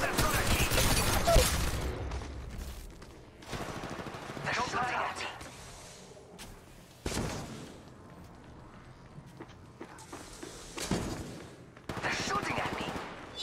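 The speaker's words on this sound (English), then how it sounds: "They're shooting at me." Spray-type gun firing in Apex Legends Mobile, several rapid bursts of automatic fire coming in separate loud clusters, with game sound effects between them.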